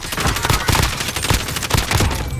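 Rapid video-game gunfire rattles in dense overlapping bursts of sharp shots, loud and close, continuing without pause throughout.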